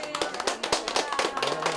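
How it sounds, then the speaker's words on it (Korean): An elderly woman and others at her home clap their hands in a brisk, uneven run of close taps, with a faint low hum underneath. "그냥 이렇게 박수 쳐드리는 거야."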